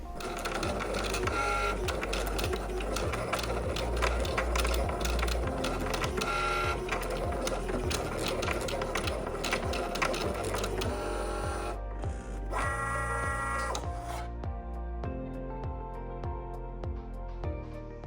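A Likcut cutting machine slices through material with a steady, fairly quiet mechanical whir and quick rhythmic ticking that runs continuously, shifting tone briefly near the end.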